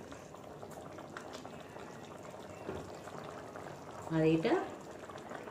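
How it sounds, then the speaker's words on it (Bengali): Liquid boiling in a pan over a high gas flame, a steady low bubbling under a quiet voice, with a brief louder burst of bubbling and stirring near the end. "এবারে এটাকে ফুটিয়ে নেব একটু হাই ফ্লেম করে, জাস্ট হাই ফ্লেম করে একটু ফুটিয়ে নেব।"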